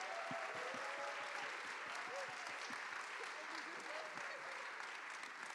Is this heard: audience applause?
yes